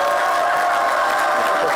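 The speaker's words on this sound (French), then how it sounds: "Ce sont les enfants qui vont t'applaudir." Children clap and cheer in a continuous burst of applause and crowd noise, fairly loud and close, lasting under two seconds.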